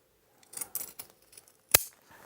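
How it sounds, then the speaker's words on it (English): Scissors clip a fabric corner and trim the seam allowance on an A-line skirt waistband, giving a few quiet, close snips and rustles, then one sharper crisp cut, with no talking. "So you want to clip your corner and then just trim that seam allowance"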